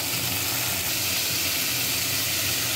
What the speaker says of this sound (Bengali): একটু চাপাটা দিয়ে দিচ্ছি ভাজার জন্য আলুগুলো।